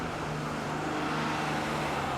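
Car traffic at the Tijuana border crossing rumbles as a continuous broad roadway drone of idling and slowly moving vehicles, with a steady low engine hum and no voices.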